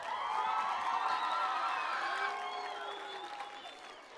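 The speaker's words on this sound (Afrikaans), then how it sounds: "Kinders, julle kan vir julle ouers lekker hande klap gee." Children applauding their parents at a primary school revue, a dense crowd of clapping with some cheering and whoops, loud at first and gradually tapering off.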